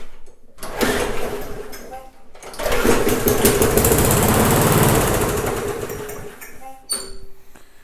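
Rusty, neglected MTD lawn mower engine cranking and catching, with a brief sputter before it roars into a loud, steady run for several seconds and then dies back down.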